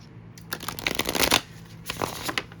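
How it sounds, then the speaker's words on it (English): A Celtic Tarot deck is shuffled up close, with a run of dense papery riffles and flicks that comes in bursts over a couple of seconds. No voice is heard. "let's start by doing a little shuffling, and then we'll start pulling your cards"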